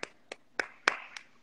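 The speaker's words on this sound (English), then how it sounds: "Please clap." Several sharp hand claps from a single person, sounded out at irregular intervals with short pauses between them, fairly close and moderately loud during an Instagram live stream.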